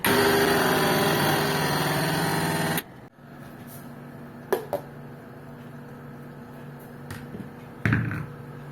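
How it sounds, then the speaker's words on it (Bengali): A blender whirs loudly and steadily as it mixes sour yogurt lassi with sugar, then stops abruptly, leaving a quiet room with a few faint knocks and clatters. "ভালো করে ব্লেন্ড করে নেব"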